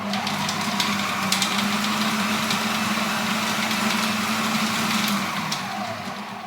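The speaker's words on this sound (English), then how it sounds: "So I'm going to give this a little blitz now." A food processor blitzing wild garlic pesto with nuts, a steady loud motor whine with a gritty churning texture running continuously for several seconds.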